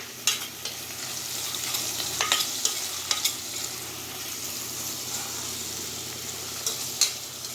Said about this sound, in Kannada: ಹಾಗೆ ಈರುಳ್ಳಿ ಸ್ವಲ್ಪ ಫ್ರೈ ಆಗಲಿ